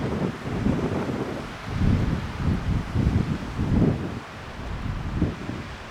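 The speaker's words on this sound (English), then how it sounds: "Very windy." Gusty wind blows across an open mountain overlook in Rocky Mountain National Park, Colorado, rumbling against the microphone in loud repeated surges with brief lulls between.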